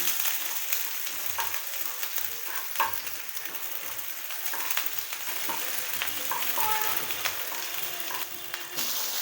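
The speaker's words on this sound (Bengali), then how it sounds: "টমেটোগুলোকে আমি খুব ভালো করে ভেজে নিচ্ছি।" Chopped tomatoes fry in a pan for a Bengali pabda fish curry, giving a steady close sizzle with soft scraping stirs and light clinks all the way through, and no voices.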